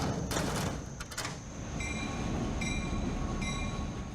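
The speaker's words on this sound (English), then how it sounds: "And cars are shifted and shunted into place." Railroad cars being shifted and shunted into place on a train run between Woodlawn, Virginia and Lowgap, North Carolina: a loud, steady rumble of rolling rail cars with clanks near the start and repeated high metallic squeals of wheels.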